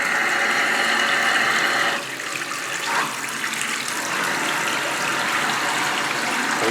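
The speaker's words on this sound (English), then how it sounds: "There's a waterfall. Dumps a lot of water though." A waterfall-style bath faucet in a bathroom being renovated pours a heavy, steady gush of water into the tub, loud and close, with a slight shift in tone midway and no voices.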